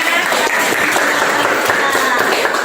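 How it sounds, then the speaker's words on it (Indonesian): Dense, steady applause from a class of students after a dance performance at a vocational school, filling the whole moment at close range without a break. "tepuk tangan semuanya"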